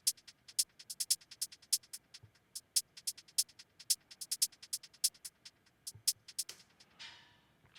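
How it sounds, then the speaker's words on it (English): Hip-hop beat hi-hats with a subtle delay on them, playing a steady, quick, crisp pattern of ticking hits with occasional bursts, fairly quiet and alone. "these here are the hi-hats"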